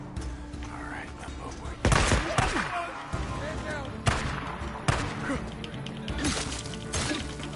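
Gunfire in the video game Days Gone, several sharp bursting shots at irregular intervals standing out over a steady bed of game ambience and talk.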